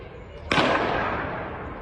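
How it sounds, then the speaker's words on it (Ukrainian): A single sharp gunshot cracks from a school yard in Lviv, fired by a parent during a dispute, and its echo fades over a steady background hum. "Як зі шкільного подвір'я лунають постріли? Чутно на цьому відео, що шириться мережею."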